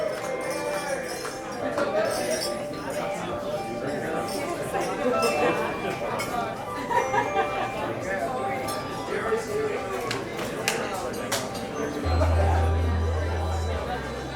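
Glasses clinking during a wedding toast, scattered bright chinks of glass against glass among a murmuring crowd of guests, with people chatting and talking throughout.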